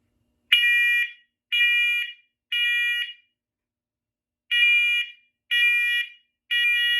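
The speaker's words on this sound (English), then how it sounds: "These, in my opinion, are as loud as commercial fire alarms." A smoke alarm being tested sounds in loud, piercing electronic beeps, three in a row, a pause, then three more, with no voices.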